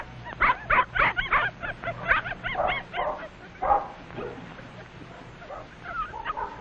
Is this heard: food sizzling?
no